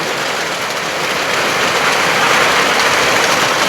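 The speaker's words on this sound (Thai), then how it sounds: "โทษว่าฝนตก" Steady, loud hiss of heavy rain pouring down, a dense even wash of noise with no voices.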